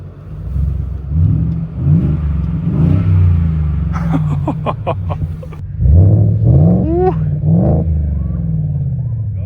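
A 750-horsepower Ford pickup truck engine rumbles loudly and close, revving in repeated rising pulses over a deep idle, with a person talking over it.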